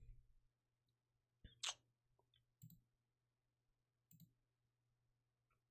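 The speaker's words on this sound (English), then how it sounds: "I'm just clicking around randomly." A computer mouse clicks a few times at irregular intervals, sparse, close and quiet, with near silence between the clicks.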